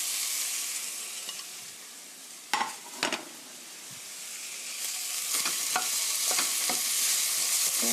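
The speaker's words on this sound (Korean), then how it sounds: "타지 않게 볶아주시고요" Pork stir-frying with onion and garlic in a pan, a bright continuous sizzle with a few sharp clatters of a utensil scraping and stirring, close and alone.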